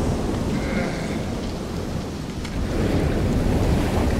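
Heavy rain pours steadily in a Cast Away movie scene, a dense continuous roar of falling water with a low rumble beneath it, loud throughout and with no one speaking.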